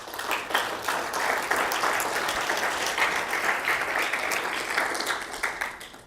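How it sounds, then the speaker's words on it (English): A conference audience breaks into sustained applause honoring Bill Faloon, a dense wash of many hands clapping at steady volume from a distance, tapering off at the end. "I also would like to ask you to extend a round of applause to Bill Faloon."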